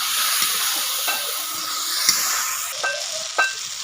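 Dry chili-powder curry being stirred in a hot pan, giving a steady soft sizzle and hiss with a few faint spoon scrapes and taps, close and fairly quiet.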